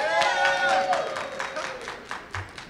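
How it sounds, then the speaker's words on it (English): An audience at a graduation ceremony claps and cheers, a steady patter of applause that fades gradually while someone speaks over it. "They're cheering my pronunciation."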